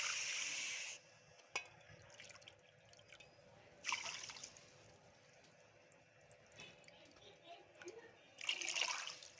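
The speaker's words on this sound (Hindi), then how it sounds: "यही 3 कप हम पानी के डालेंगे" Water is poured into sugar in a pan for syrup: a short splashing pour at the start, then quieter trickles and drips with a few louder splashy bursts, a voice speaking in between.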